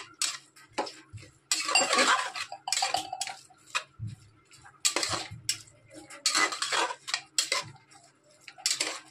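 Spoon scraping and clinking against a pan while soya chunks and rice are stirred together, irregular metallic taps and scrapes in bursts, close and fairly loud, no talking.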